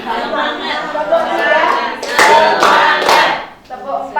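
A group of people, likely a class, claps a counted rhythmic pattern in short bursts, the claps mixing with voices chanting and speaking along.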